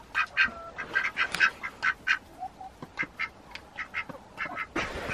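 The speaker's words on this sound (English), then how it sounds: "The ducks don't like it when we come in. They get unsettled" Ducks quack repeatedly in short, loud bursts inside their coop, several birds calling close by in an irregular, restless chatter.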